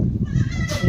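A goat bleating on a goat farm, one short, loud, close bleat with a wavering tone, alone without speech.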